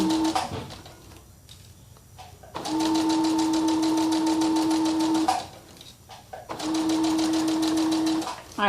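Sewing machine stitching fabric coasters made from scraps, running in two steady bursts of a few seconds each with a quiet pause between them, close and loud.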